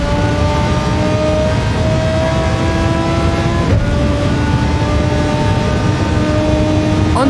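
Race car engine in Gran Turismo 7 held at full power down a straight, a loud steady high-revving drone climbing through gears with a brief shift dip midway, continuous and alone.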